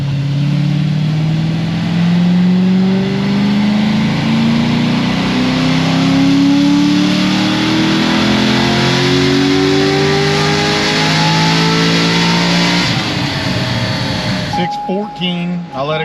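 Stage 5 C6 Corvette Z06 engine revs hard on a dyno, rising steadily in pitch for about thirteen seconds before dropping off sharply to a low idle, loud and close throughout.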